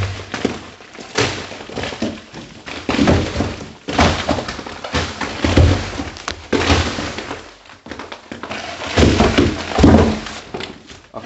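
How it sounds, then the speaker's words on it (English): Old, delaminated plaster pulled by hand off a brick wall, exposing crumbling mortar joints: repeated crumbly breaking and thudding bursts as chunks come away, close and fairly loud, in several waves with brief pauses between. "I can just pull this"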